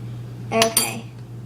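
Cake being mashed together in a bowl for watermelon cake pops: a short, close burst of a utensil scraping and squishing against the bowl, about half a second long, with no talking.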